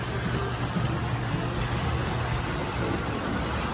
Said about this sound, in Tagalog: At ngayon po ay umaambon na